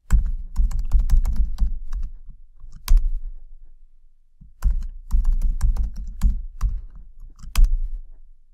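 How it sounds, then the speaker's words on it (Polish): Fingers type a password twice on a computer keyboard, producing two close, dense runs of rapid key clicks with a short pause between them and no talking. "Wpisujemy dwa razy hasło dla naszego użytkownika administracyjnego."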